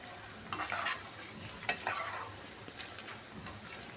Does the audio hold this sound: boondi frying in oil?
yes